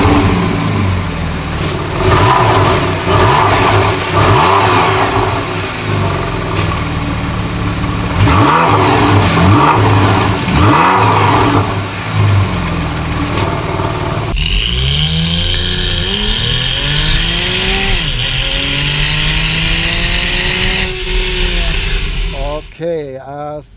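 A 2015 Porsche 911 Carrera 4 GTS (991) on a test drive, its engine loud and close, revving up through repeated rising sweeps as it accelerates and shifts gears.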